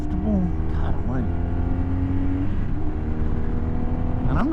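A 2009 BMW R1200RT touring motorcycle engine revs hard at full throttle, a steady loud drone with pitch sweeps as it climbs, continuous throughout.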